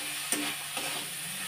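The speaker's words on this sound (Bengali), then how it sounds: "ভালো করে মশলাটা কষে নিতে হবে। জিরে আদা বাটা দিয়ে দিলাম।" Spice paste of cumin and ginger frying in a pan, heard as a brief, fairly quiet sizzle with a single sharp stirring clink near the start and a softer scrape after, no speech.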